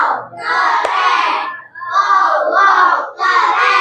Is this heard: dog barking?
no